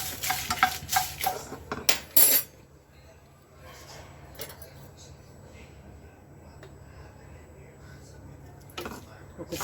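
Dried red chillies frying in a spoon of oil in a pan, with a burst of spoon scrapes and clatter early on, then a soft steady sizzle continuing quietly.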